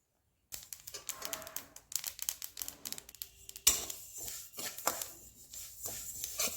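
Black sesame seeds being dry-roasted in a pan, heard as quick rattling and pattering bursts of tiny seeds against metal in uneven clusters, growing brighter partway through, with no voices.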